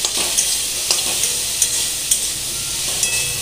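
Fish shukto with salt and turmeric is stirred in a frying pan: a constant hissing sizzle with a spatula scraping and tapping the pan in a regular rhythm, close and fairly loud.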